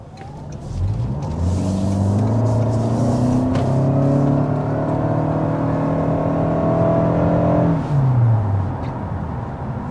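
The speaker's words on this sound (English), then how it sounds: "So that was an acceleration in the sport mode." A 2025 Toyota Camry XSE accelerating hard in sport mode, heard from inside the cabin: a smooth engine whir rising steadily in pitch for several seconds, then easing off, with no talking.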